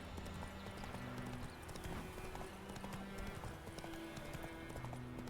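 A horse canters in Witcher 3, its hooves giving a quick, steady rhythmic clip-clop throughout. The sound is fairly quiet under soft game ambience.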